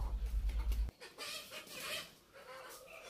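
Desi chickens cluck and squawk in short bursts while being caught, close and fairly loud after a low thumping rumble at the start.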